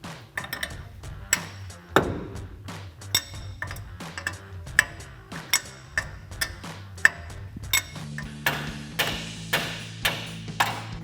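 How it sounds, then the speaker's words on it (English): A hammer strikes a tie rod end to knock it loose on a 2014-2018 Silverado or Sierra 1500 front suspension, with a steady series of sharp metallic blows ringing close by. "and then use a hammer to dislodge it"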